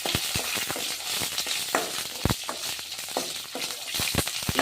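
Green chillies sizzle and spit in hot oil in a pan, a steady close frying crackle with sharp pops throughout and no talking.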